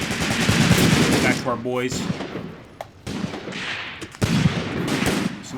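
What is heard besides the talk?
gunfire in Graviteam Tactics Mius Front video game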